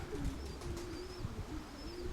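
A pigeon coos softly from a loft, low throaty calls repeating over a steady outdoor background, with faint thin chirps from other birds farther off.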